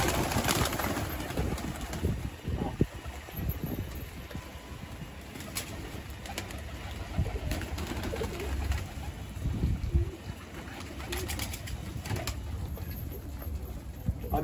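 Pigeons gather to feed on a rooftop, with soft cooing and occasional wing flutters over a steady outdoor background, close and moderately loud throughout.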